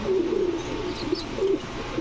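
A pair of Indian Lotan pigeons coo loudly and close, giving a few clear rolling coos in quick succession over a soft background hum.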